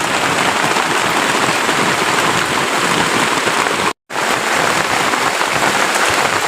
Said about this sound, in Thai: ในขณะที่ฝนตกหนักครับ